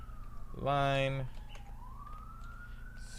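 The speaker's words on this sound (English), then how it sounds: "Sorry for the sirens. I live in Brooklyn where things are loud." A police siren wails faintly outside in Brooklyn, sweeping slowly and continuously in the background while someone speaks a single word up close.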